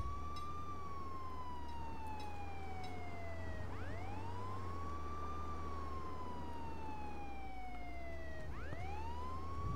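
Police car sirens in the video game Contraband Police, a wailing siren sweeping down and rising again twice over a steady engine hum, moderately faint and without speech.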